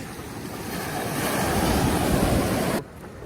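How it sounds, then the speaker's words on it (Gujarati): Sea waves hitting a small fishing boat out at sea, a rising rush of surf and water with heavy wind buffeting the microphone, swelling steadily before cutting off abruptly near the end. "મોજાની લેર આવી."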